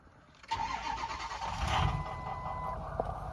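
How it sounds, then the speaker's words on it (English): Cold diesel truck engine fitted with new 155cc injectors cranks and catches after a quiet moment, then settles into a rough, loud, steady running rumble nearby. "Rough start, but she runs."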